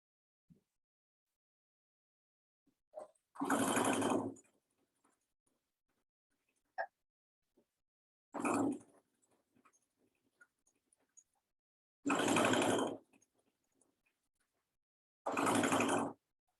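A sewing machine stitches a side seam in four separate short bursts of fast buzzing, each lasting about a second, with quiet pauses and small clicks and handling sounds in between.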